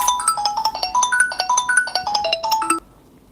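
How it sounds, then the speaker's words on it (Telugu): Mobile phone ringtone for an incoming call, a bright, repeating electronic melody of quick chiming notes that plays clearly for nearly three seconds and then cuts off into quiet. "మళ్ళీ ఫోన్ కాల్ చేస్తున్నారు ఒకరే"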